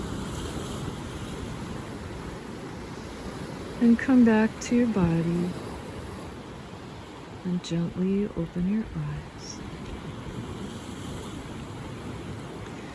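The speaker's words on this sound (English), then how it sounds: "listening to the sounds of the water" Ocean waves wash continuously along a Hawaiian shore, a soft, steady surf hiss beneath a calm voice speaking gently in two short passages.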